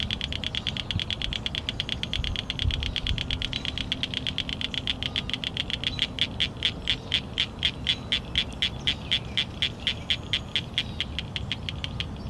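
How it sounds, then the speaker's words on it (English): Male cricket frogs give mating calls from vegetation: a rapid train of short, sharp clicks like a cricket's chirping. The clicks come in a steady series that grows more distinct and evenly spaced, over a soft background hiss. "The males call from vegetation with rapid, short sound similar to the call of crickets, which is how they got their name."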